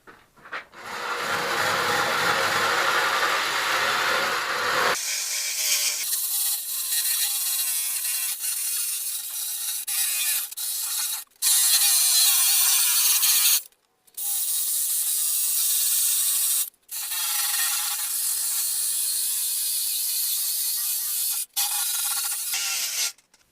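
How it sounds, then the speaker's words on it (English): Sandpaper of 200 grit scrubs a car body down to the primer layer in loud, close, broadband strokes, with several short pauses between passes. "I'm going to take 200 grit and go over it again"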